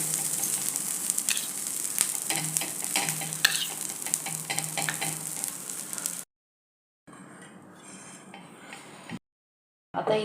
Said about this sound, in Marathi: आता इथे आपली पावभाजीची भाजी पाव वगैरे भाजून तयार आहे